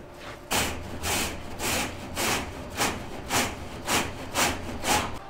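A broom brushes cobwebs off, making a series of about nine rhythmic scratchy sweeping strokes, moderately soft and close, with no talking.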